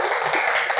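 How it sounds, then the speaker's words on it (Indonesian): Classroom applause for a group's score, a short burst of dense clapping from many hands, close and steady. "Tepuk tangan"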